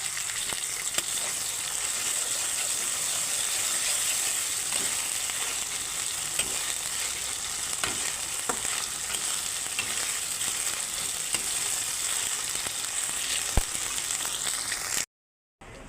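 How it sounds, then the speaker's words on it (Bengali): Ginger-garlic paste fries in a hot pan for egg curry, giving a loud, continuous sizzle with scattered crackles throughout, cutting out abruptly near the end. "এবারে দিয়ে দিচ্ছি আদা রসুন বাটা"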